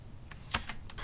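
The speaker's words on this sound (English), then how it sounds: "I'm going to type a label over here." A few soft keystrokes on a computer keyboard while typing a label into a spreadsheet, quiet, sparse and uneven clicks with no talking.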